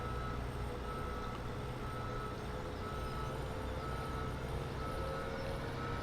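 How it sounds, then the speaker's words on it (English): A wheel loader reverses out of a silage bunker in Farming Simulator 17, with a steady engine drone and continuous tonal reversing beeps holding at an even level throughout. "I'm just going to reverse our wheel loader out of the bunker"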